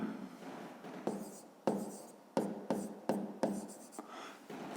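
A pen writes on paper during a fifth-grade math exercise, close and quiet, with a series of short scratchy strokes in bursts separated by brief pauses.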